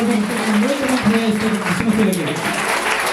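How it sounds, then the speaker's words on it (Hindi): A church congregation at a Sunday service claps loudly and continuously, with voices mixed into the dense applause throughout. "जितने लोग खुश हैं, जोरदार ताली बजा के यीशु मसीह के लिए"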